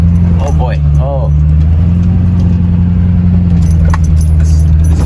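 A vehicle labours up a steep hill, its engine droning steadily and loudly up close while keys jangle and someone talks over the rumble.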